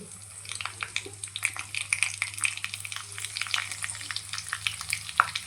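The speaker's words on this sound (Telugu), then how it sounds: "జీలకర్ర వేసుకుంటున్నాం ఎండుమిర్చి దంచిన వెల్లుల్లి అండి" Cumin seeds, dried red chilies and crushed garlic fry in hot oil as a tempering for spinach dal, giving a steady, close crackling sizzle with scattered sharp pops throughout and no talking.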